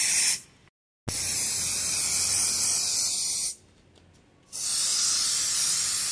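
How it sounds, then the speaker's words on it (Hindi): An aerosol polish is sprayed onto a mold before silicone is poured, giving two loud sustained hissing bursts separated by short pauses, close and clear with no talk. "अभी सिर्फ इसमें ऊपर थोड़ा स्प्रे मारेंगे ये पॉलिश के लिए"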